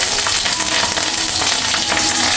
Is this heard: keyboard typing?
no